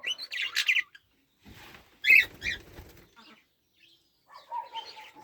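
Grass parakeets in a garden aviary give bursts of bright chirps and tweets with a brief flutter of wings, close by, separated by short silent gaps.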